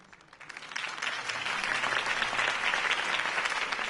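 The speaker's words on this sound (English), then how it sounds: "could have heard that applause" Applause from a large crowd in the Batman Telltale Series video game swells up in the first second and then holds at a full, dense roar of clapping.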